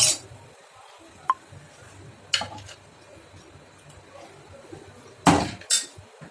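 Fish curry being served onto a plate at home, with a few scattered metallic clinks of a ladle or spoon against dishware separated by quiet pauses, the loudest scrapes near the end.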